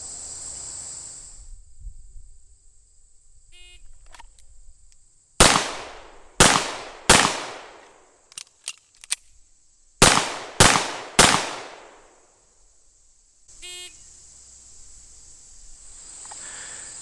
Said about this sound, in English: draw and fire 3 rounds into the body of the target, then perform a mandatory reload and fire 3 more rounds